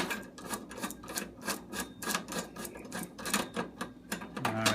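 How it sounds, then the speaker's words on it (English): Rapid, repeated ratcheting clicks of a screwdriver backing out two screws from a Kenmore oven igniter burner assembly, close and fairly quiet, with steady rhythmic bursts throughout. "and you remove these two screws."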